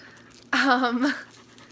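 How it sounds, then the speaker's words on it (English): A dog pants close by in a short burst of quick, breathy huffs that starts abruptly and fades after about half a second, loud against a quiet room. "Sorry, the dog."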